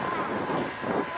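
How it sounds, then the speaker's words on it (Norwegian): Engine of a 1910 Thulin A / Blériot XI monoplane at an airshow, a brief rough droning roar heard from a distance in open air. "vi hører på motoren på denne flymaskinen her"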